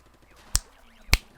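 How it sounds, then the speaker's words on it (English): Two sharp finger snaps made right beside a microphone, about half a second apart, each a crisp isolated crack against near silence. "I had to snap my fingers by my mic to see if it was using the right mic"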